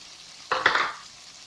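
Chopped tomatoes hit a hot pan in a short, sharp hiss of sizzling that flares loudly and fades within half a second over a faint background.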